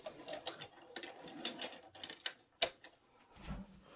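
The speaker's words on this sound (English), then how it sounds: "So you can see I stitched a straight down line from where my dot is, perpendicular to the fold." A sewing machine stitches a straight line across a fabric fold at a mitered corner, then back stitches. Its motor runs in short whirring, rhythmic bursts, with a sharp mechanical clack near the end.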